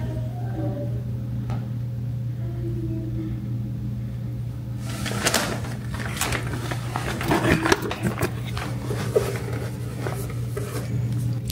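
A hotel room door in a Seattle hotel is opened. A quiet hum comes first, then close clicks, a latch, rattles and rustling as the door swings open, with no talking.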